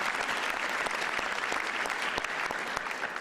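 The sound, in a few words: audience applause at sheriff swearing-in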